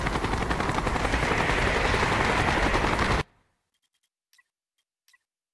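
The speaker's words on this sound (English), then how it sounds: "Taking AAA fire from the deck!" Rapid anti-aircraft fire rakes from a ship's deck in a Call of Duty Black Ops mission, a dense, loud, continuous roar that cuts off abruptly into silence broken only by a few faint, scattered ticks.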